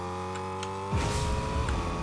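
A car engine revs up in Fortnite, rising to a loud burst of throttle after a steady idle hum, with a brief squeal-like rise near the end.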